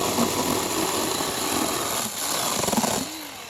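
A Velotrex mini cordless chainsaw cutting through small one- to two-inch tree limbs. Its motor buzzes loud and close at a steady pitch, easing briefly midway and then carrying on, with no talking.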